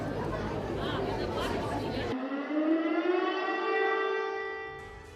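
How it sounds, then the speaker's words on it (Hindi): An air raid siren sounds in Kyiv after Russian missile strikes, a long, loud, steady wail that follows a burst of crowd chatter. "Red alert, air red alert जारी किया गया। वहां पर सायरन बज रहा है, लोग भागते हुए दिख रहे हैं, शेल्टर में छिप रहे हैं"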